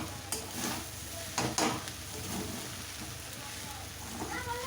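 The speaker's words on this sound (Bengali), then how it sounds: "দেখো চিনি আর নুন দিয়ে আমি এবার খুব ভালো করে মিশিয়ে নেব।" Flattened rice poha being stirred with sugar and salt in a pan, soft scraping and light sizzling taps close by, with brief louder scrapes amid quiet cooking noise.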